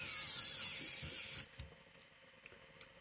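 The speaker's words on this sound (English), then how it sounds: "now we're just going to put the screws back in" A small electric screwdriver whirs for about a second and a half while driving a screw back into a Bose SoundLink Flex speaker, then stops, followed by a few faint clicks and handling taps.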